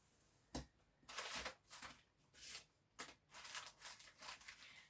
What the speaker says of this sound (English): there's going to be rustling because I didn't pre-look it out